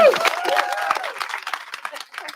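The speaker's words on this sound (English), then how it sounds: "a huge round of applause for Noreen Kemp" A panel audience at a media club festival applauds in a short burst of loud, dense clapping, with a tonal voice or sound briefly mixed in near the start.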